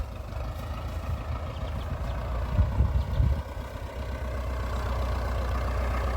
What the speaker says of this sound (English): The incoming tractor will now do the actual compacting.